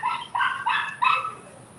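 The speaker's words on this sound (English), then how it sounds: "Even the dog chiming in on that shit, man." A dog gives four quick barks, close and fairly loud, in a short burst with no talk over them.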